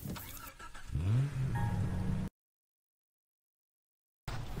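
In the game Far Cry 3, a car engine cranks and starts, then revs up with a rising whine as it pulls away, followed by a sudden silence and a brief return of engine noise.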